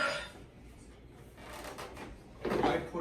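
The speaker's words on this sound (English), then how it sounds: "I don't like this stupid drawer." A stubborn kitchen drawer by a refrigerator slides and rattles with scraping, thudding bursts at the start and again near the end, amid low household background noise.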